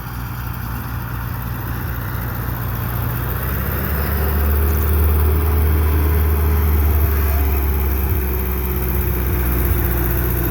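A tractor engine idles steadily on a hay field before mowing, a loud, continuous low rumble that swells slightly partway through, with no talking.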